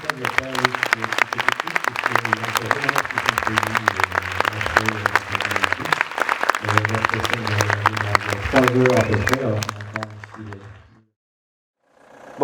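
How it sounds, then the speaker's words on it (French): Audience applause at an evening event in Toulouse, with dense, steady clapping from a crowd lasting about ten seconds over background music, then cutting off into near silence. "On peut même applaudir, je crois."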